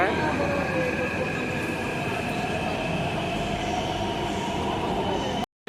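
A Hyderabad metro train rumbles steadily along the tracks with a constant whine and rushing hum from inside the carriage, continuous until an abrupt cut.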